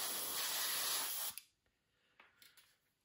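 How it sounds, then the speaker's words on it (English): A steady, close hiss of spray paint on the nose cone of a 1/48 scale Tamiya P-38 model kit for over a second, then it cuts off, leaving faint small clicks and handling noise. "I am going to spray the nose cone here, or the cones,"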